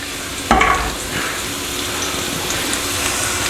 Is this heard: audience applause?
no